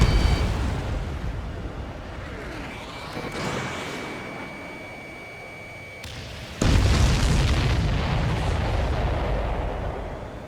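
Missile explosions and heavy booms in the jet combat game Ace Combat 7, flown in an F-15E Strike Eagle: a continuous loud rumble with a sustained tone, then a sharp, louder burst about two-thirds through.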